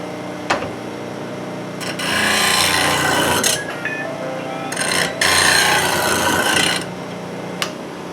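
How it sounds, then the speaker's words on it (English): A bowl gouge being ground to an Ellsworth fingernail grind on a grinder with a PSI sharpening system: close, bursty rasping passes of steel on the wheel, separated by brief pauses. "And there we have the Ellsworth grind on a bowl gouge."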